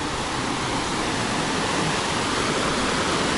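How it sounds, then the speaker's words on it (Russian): Waterfall on a river near Sochi, a steady, loud broadband rush of falling water close by, continuous and unchanging throughout with no voices. "Подойдем сейчас поближе к водопаду."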